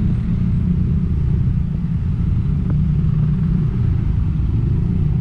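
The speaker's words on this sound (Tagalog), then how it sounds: "ito na yung mahabang traffic mga best friend dito sa Jadi" Long road traffic jam in the Philippines: a steady, loud low rumble of idling and slowly moving engines heard close, continuous and unchanging, with no talking.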